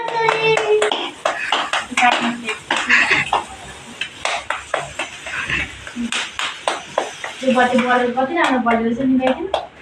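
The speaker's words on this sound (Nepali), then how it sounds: "ताली बजाऊ" Family members clap hands at a home anniversary surprise, bursts of quick claps and clinks mixed with chatter and a voice, loud and close, fading briefly mid-way before resuming.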